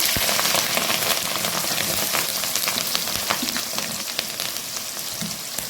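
Mustard seeds, cumin, and dried and green chillies fry in hot oil with a loud, dense, steady sizzle and crackle, close up with no talking.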